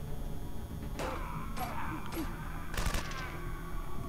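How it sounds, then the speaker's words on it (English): Outlaws fire guns in the video game Wasteland Remastered, four sharp shot bursts spaced about half a second apart, the last a rapid double volley, over a steady game background hum. "Yes, enemies with guns still get to shoot."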